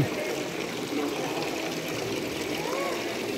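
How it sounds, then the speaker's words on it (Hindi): Water flows steadily from the lion fountain in a Nasrid Palace courtyard, a constant, fairly soft splashing trickle with no breaks. "ये महल के सहन में एक खूबसूरत तालाब है, इसमें शेर बने हुए हैं जिनके मुंह से जो है वो पानी बह रहा है।"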